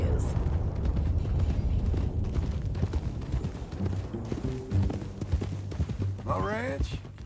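Horse hooves clip-clop in a video game ranch scene, a steady trotting patter under continuous low ambient rumble, with characters talking over it.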